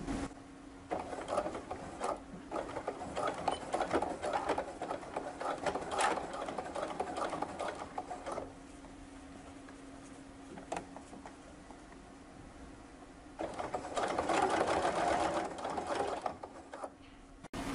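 A sewing machine topstitches twill tape onto a T-shirt, folding one edge over an overlock seam and stitching 1–2 mm from the edge. Two steady runs of close mechanical whirring are separated by a quiet pause, with no talk.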